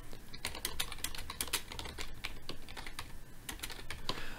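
Rapid, steady clatter of keys on a computer keyboard as a chat comment is typed, close and fairly loud with irregular bursts of keystrokes and no speech over it.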